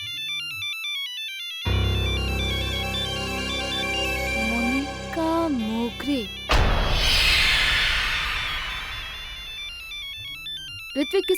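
A mobile phone plays a ringtone inside a police station, as a loud, steady melodic tune that repeats and carries on for several seconds before a crashing musical sting.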